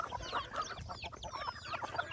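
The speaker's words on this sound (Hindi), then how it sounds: "ये देख सकते हैं हमारी मुर्गियाँ उनको" Backyard chickens clucking steadily while pecking at soaked rice, several birds close by with overlapping short clucks and chirps over a busy low rustle.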